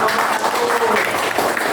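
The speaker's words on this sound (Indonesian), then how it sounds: "Tepuk tangan." Students in a classroom clap briefly, a short burst of steady group applause that fills the whole moment at moderate loudness.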